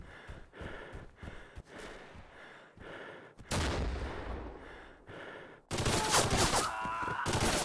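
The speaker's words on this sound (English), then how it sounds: "Somebody called in an airstrike." Airstrike and gunfire in the WWII shooter Red Orchestra 41-45 on the Mare Nostrum map: a volley of sharp shots and distant thuds, then heavy rumbling blasts that build into a loud, sustained barrage of explosions near the end.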